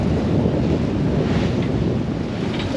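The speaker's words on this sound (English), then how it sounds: "So this first squall was really nice, brought in about 20 knots of wind" Strong wind of about 20 knots sweeps across a sailboat at sea during a squall on the Atlantic, a loud, steady roar of wind buffeting the microphone with washing water beneath, no voices.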